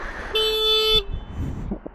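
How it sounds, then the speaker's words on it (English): A car horn blares in one steady, loud honk lasting under a second, followed by outdoor background noise and faint movement sounds. "Why are you honking?"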